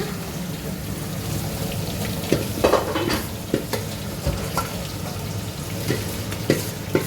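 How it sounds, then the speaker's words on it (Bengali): Hilsa fish fries in a pan with a steady, close crackling sizzle and scattered louder pops and spatters, with no voices. "এই যে মাছ ভাজা হচ্ছে। এই আমার দিদি এখন মাছ ভাজছে।"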